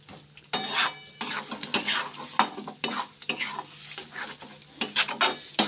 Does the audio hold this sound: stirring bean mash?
yes